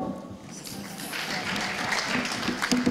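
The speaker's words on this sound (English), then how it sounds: "Please a round of applause to the panelists" Audience applause for the panelists at a Uganda–Tanzania investment forum, a steady wash of clapping that builds and holds throughout, with faint voices mixed in.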